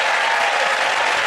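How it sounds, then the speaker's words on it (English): A television studio comedy audience gives a dense, loud round of applause, a continuous wash of clapping with no break. "give that round of applause for the Chris Hugh and Meltdown."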